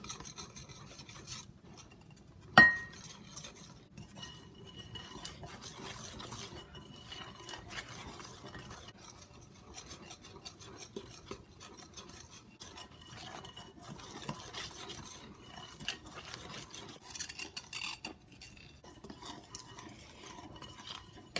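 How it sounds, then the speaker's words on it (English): Whisk scraping and stirring through cake batter as dry ingredients fold into the wet mix for a pumpkin-spiced sweet potato cake roll, a steady soft rasp with a sharp clink near the start, close and alone. "Continue whisking until it's well incorporated"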